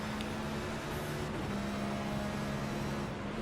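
Race car engine droning steadily at World Wide Technology Raceway, a continuous muffled hum with a faint tonal whine and no breaks, fairly quiet overall.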